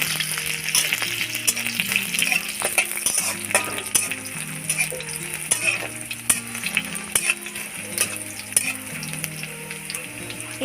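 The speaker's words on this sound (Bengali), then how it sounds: "এরপর এটাকে একসাথে মিক্স করে পেঁয়াজ কুচিগুলোকে ভেজে নেবেন" Chopped onions sizzle in a pan while a utensil stirs them with frequent scraping clicks, against a low steady tonal hum in the background.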